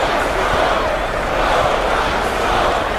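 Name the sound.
basketball arena crowd cheering loudly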